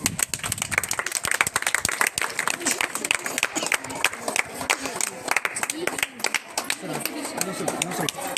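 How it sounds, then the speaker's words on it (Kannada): Audience clapping at a school science exhibition, a scatter of sharp hand claps running through the whole stretch beneath steady talking and crowd chatter. "ಎಲ್ಲರೂ ಚಪ್ಪಾಳೆ ಹಾಕ್ರಿ"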